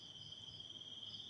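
Crickets chirp at night in the Tasikmalaya countryside, a faint steady high trill that runs without a break over a low background hum.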